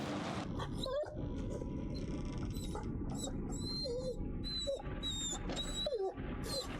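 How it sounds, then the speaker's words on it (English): Dog noises in The Devil in Me game: whines, yelps and growls come close and fairly loud over a dense, rumbling ambient bed, mixed with creaks and a few sharp bursts, with no talk. "That's a dog, all right."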